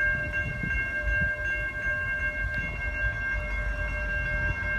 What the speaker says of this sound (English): I don't know how long this train's gonna be blocking the tracks.